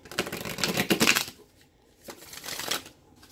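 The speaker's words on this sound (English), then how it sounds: "let's get one more shuffle in" A deck of tarot cards is shuffled close by in two short bursts of rapid papery riffling, separated by a brief quiet gap, with no talking.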